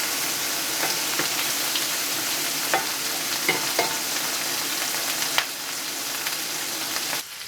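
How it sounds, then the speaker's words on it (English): Monkfish sizzles in a hot pan with butter, a loud, continuous frying hiss close by, punctuated by small crackles and occasional scrapes as the fish is shifted around. "I just kind of move the fish just to keep in the hot spots of the pan, which you can hear"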